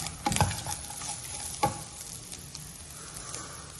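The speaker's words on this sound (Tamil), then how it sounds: "இப்போ தேங்காய் நம்ம நல்லா வறுத்துக்கலாம்." Grated coconut sizzles as it fries in a pan, heard close as a steady hiss with a few sharper scraping stirs from a spoon, and no voices.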